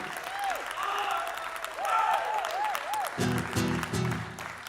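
A live concert crowd in Temple, Texas applauds steadily, with whistles rising over the clapping, before low instrument tones enter in the last second and a half.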